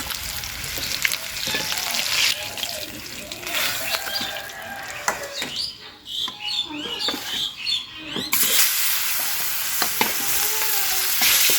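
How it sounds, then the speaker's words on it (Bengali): Pieces of fresh katla fish fry on a hot tawa with a steady, close, loud sizzle and crackle that runs through the whole stretch, thinning for a few seconds before surging back to full strength. "আমার তাওয়ার মাছগুলা হয়ে গেছে আমি এবার উঠাই নেব দেখেন বন্ধুরা দেখেন এটা লাল লাল করে ভাজছি"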